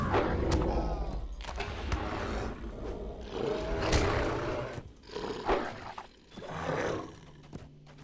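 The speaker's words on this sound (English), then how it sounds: "I be bear! I can do anything! Hear me roar." A Beorning in bear form roars during combat in the online game The Lord of the Rings Online, with several loud roaring bursts mixed with game thumps and clatter over eight seconds.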